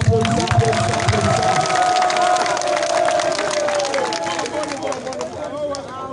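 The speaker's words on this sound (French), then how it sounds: "Alors applaudissons encore, applaudissons." Audience applause and cheering from a crowd at a speech gathering, a dense, continuous clatter of clapping with shouts and babble, loud and close, fading slightly toward the end.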